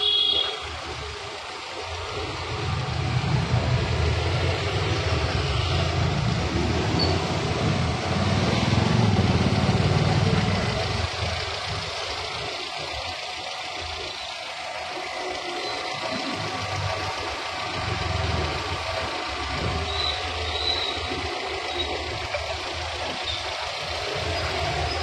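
A 2007 Hyundai Santro Xing car engine idles steadily, a close, continuous low hum and rumble that swells slightly and then settles, with no talking.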